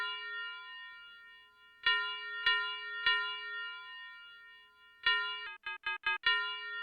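Synthesized bell tones in an FL Studio 24 jazz-style beat: three separate ringing strikes, a pause, then a quick stuttering run of short chopped hits ending in one last sustained ring, clear and alone.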